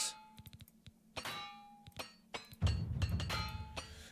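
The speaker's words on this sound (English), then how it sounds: "Those level up sounds make me scared." Level-up chimes from the video game Oblivion Remastered: a run of bright metallic clangs and ringing dings, some sustained tones, closing with a louder, denser burst with low rumble, all without speech.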